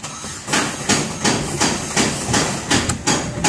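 A Ford Figo with a misfire on injectors 3 and 4 cranks, the starter churning in about eight repeated loud surges at a steady rhythm across the clip, with no voices.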